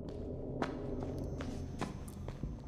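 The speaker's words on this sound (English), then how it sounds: "Oh, I can hear footsteps" Footsteps in the Pine Harbor horror game inside a bunker, a few scattered, soft steps over a low droning background, fairly faint and alone with no talking.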